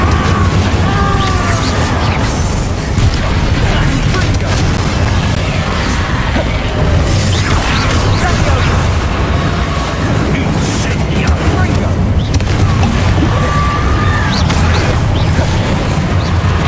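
An Incendio fire spell goes off in the video game Hogwarts Legacy, a loud, dense roar of bursting, booming fire effects that runs continuously over a rumbling game soundscape.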